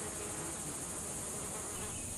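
Melipona bees, small stingless pollinators of vanilla flowers in Mexico, make a continuous faint insect buzz with a high hissing tone, steady and unbroken, with no voices.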